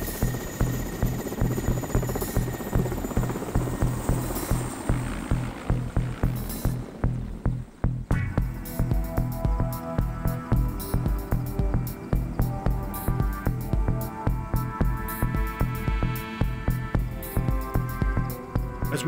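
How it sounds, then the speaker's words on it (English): Soviet-era Mi-8 helicopter in the Russian Far East, Kamchatka, lifting off: a steady, loud rhythmic rotor thump with turbine whine, continuous throughout and without speech. "We board another leftover of the Soviet war machine, an Mi-8 helicopter."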